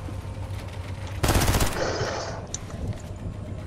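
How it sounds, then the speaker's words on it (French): Short burst of rapid automatic gunfire in a battle royale shooter game, a loud cluster of shots lasting about half a second, then a fading tail over quiet game ambience. "Rafale."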